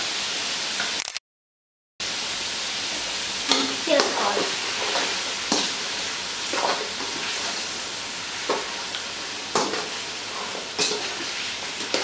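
Mutton with turmeric and salt sizzles in a pan, a steady close frying hiss broken by occasional stirring scrapes and clanks, with a brief silent gap near the start.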